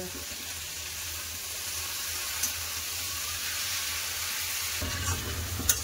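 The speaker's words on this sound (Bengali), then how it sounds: "পুঁই শাক, কুমড়া, মশলা খুব ভালো করে কষাবো" Malabar spinach, pumpkin and spices sauté in a hot pan for a steady, close sizzle that holds at an even level, with a few light clinks of a utensil stirring through it.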